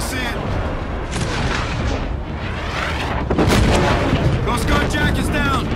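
Anti-aircraft flak bursts boom repeatedly in a video game combat scene, dense and loud, with overlapping explosions and crackling rumble throughout.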